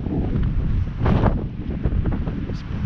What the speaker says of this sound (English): It's been a windy year so far